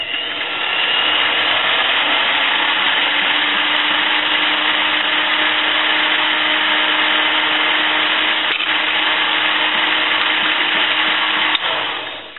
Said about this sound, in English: now we've got to countersink the end of this nipple before we drill it.